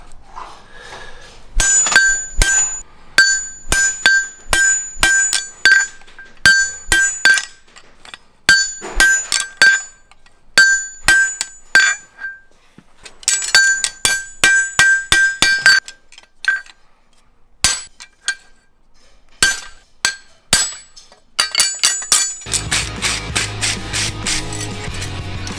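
A hammer strikes a steel stamp on a modified horseshoe to punch coarser nail holes, making bright, ringing metallic blows in quick bursts of repeated strikes, loud and close, ending with a scraping clatter.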